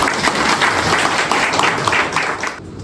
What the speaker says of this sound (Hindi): बताने के लिए जोरदार तालियां